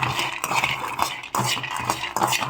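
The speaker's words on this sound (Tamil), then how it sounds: "ஹீட் ஆனதான் கடலையை போட்டு நல்லா வறுத்துக்கலாம்." Peanuts being dry-roasted and stirred in a hot pan in a home kitchen, a continuous loud rattling and scraping with spoon clinks and shifting nuts, steady and close with brief dips in intensity.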